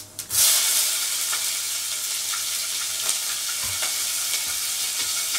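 Whole cumin seeds and chillies fry in hot oil, giving a steady close sizzle with scattered small pops and crackles, the tempering for a vegetarian ash gourd dish cooked with lentil dumplings.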